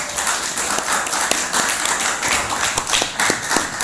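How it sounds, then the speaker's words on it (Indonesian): Scattered, uneven clapping from students in a chemistry classroom praising two classmates, fairly close and a little ragged over room noise. "Tepuk tangan buat Fauzan dan Jari."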